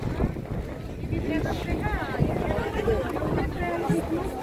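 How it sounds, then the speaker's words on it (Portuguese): Strong wind buffeting the microphone outdoors at the crowded Pedra do Padre Cícero pilgrimage site in Dois Riachos, Alagoas, a steady rumbling roar under faint crowd chatter and a nearby voice. "Tá ventando muito hoje aqui,"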